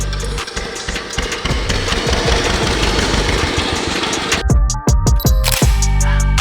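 An old hand-started diesel chaff-cutter engine, mounted on a homemade motorcycle and unused for about twenty years, runs with a loud, close, rapid knocking chug that turns into irregular sputtering bursts near the end.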